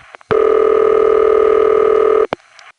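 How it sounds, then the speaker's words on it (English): A taped city-ring loop from a Bronx panel telephone exchange, 1976-77: one loud, steady two-tone ring lasting about two seconds, bracketed by brief clicks and followed by a short burst and low line hiss. "instead of hearing his usual ring, we would hear this. It was a tape loop"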